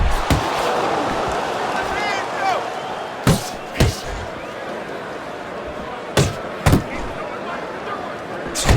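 Punches land in the Fight Night Champion boxing video game, several sharp thuds arriving singly and in quick pairs over a steady arena crowd murmur.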